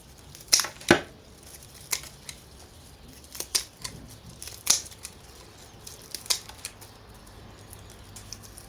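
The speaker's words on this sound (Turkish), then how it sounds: "Evet şu ölen kökleri şöyle kesiyorum." Scissors snipping dead orchid roots, a series of sharp crisp cuts at irregular intervals with a few louder snips early on, close up and without speech.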